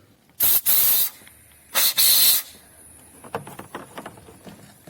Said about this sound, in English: then with the compressed air, just give it a little bit of drying power